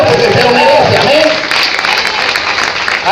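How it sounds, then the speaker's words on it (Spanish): A church congregation applauding at a Spanish-language evangelical service, a steady wash of clapping that fills the clip at close range, with a preacher's voice over the first part. "Yo le daría ese aplauso al Señor porque usted lo merece"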